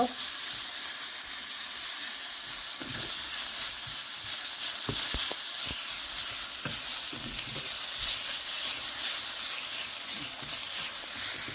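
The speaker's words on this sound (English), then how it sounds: "We're going to fry this up a bit too. With our onions, just for a minute or so." Ginger garlic paste and onions frying in a pan, giving a steady close sizzle and hiss throughout with occasional soft clicks of stirring.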